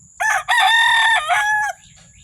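A rooster crows loudly and close by in one full call, opening with a short note and then a long, sustained, harmonic crow of about a second and a half, with quiet background noise afterward.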